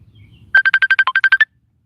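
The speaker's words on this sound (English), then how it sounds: "Hold on, let me get this phone call." Phone ringtone for an incoming call: a rapid burst of about eleven bright electronic beeps, loud and close, following a brief low murmur and then ending in silence.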